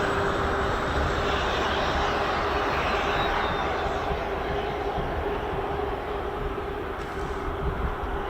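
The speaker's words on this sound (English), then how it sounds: "Helicopter just coming in now" A helicopter arrives at the Royal International Air Tattoo arrivals day at RAF Fairford, heard as a loud, steady engine roar that fills the whole stretch and eases only slightly near the end.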